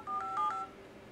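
A custom dialer on an HTC EVO 3D phone plays a quick run of four short touch-tone beeps, clear and close, with faint room hiss after.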